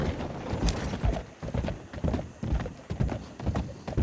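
In Red Dead Redemption 2, a horse trots along with steady, paired hoofbeats in a regular rhythm, close and fairly loud, with snorting or a whinny mixed in.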